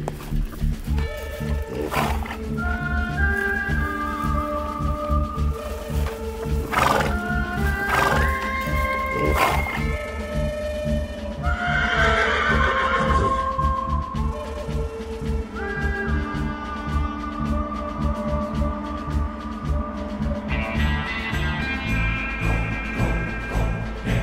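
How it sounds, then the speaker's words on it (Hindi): A horse neighs and trots, with whinnies and clip-clop mixed into a loud, dense bed of steady tonal sound that runs without a break. "घोड़ा देखो कैसे दुर्गी चल रहा है"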